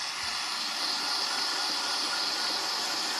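Compressed air or spray cleaner blasts steadily into the inside of a Toro snow blower carburetor, giving a loud, continuous close hiss with no pauses.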